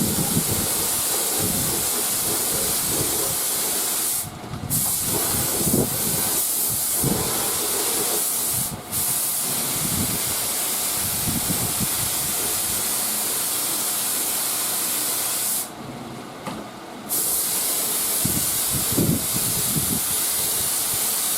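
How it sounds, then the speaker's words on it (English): Lacquer being sprayed onto a 1940s Crosley radio cabinet, a loud steady hiss that runs in long passes, briefly cutting out a few times between bursts. "we're going to just go ahead and spray it with the lacquer"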